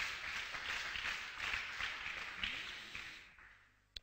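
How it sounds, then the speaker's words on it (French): Church congregation applauding during a service, a sustained crowd of clapping hands at moderate level that fades toward the end, with a faint voice underneath. "Applaudissez le Seigneur Jésus."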